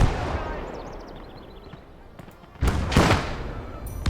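A tank shell ricochets in the video game Kampfgruppe: a thin, falling whine trails off, then a pair of sharp, loud cannon blasts crack out close together.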